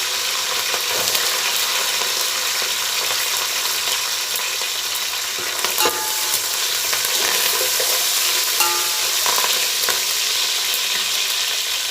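Onion pieces fry in ghee for pulao with a loud, dense, steady sizzle that runs unbroken throughout, broken by occasional clinks and scrapes of stirring.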